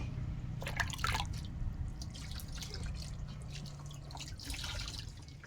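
Water drips and splashes steadily while a baby is bathed, with a low hum underneath and faint voices in the background.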